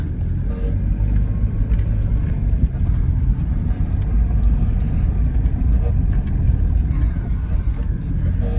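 A 1996 Mitsubishi Delica L400 Chamonix edition 4x4 being driven in winter while shifting into four-high, a steady loud low engine and road rumble from inside the cabin, with no distinct engagement click standing out.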